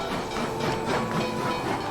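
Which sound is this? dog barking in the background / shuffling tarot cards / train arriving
train arriving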